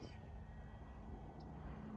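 An FMS 2000mm Beaver V2 RC model airplane flies overhead, its propeller and electric motor a faint, steady drone mixed with outdoor wind noise.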